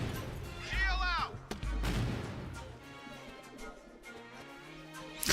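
Frag grenade explosions in a tactical shooter video game, two heavy booming blasts close together followed by rumbling debris and further gunfire, with a voice shouting over the noise.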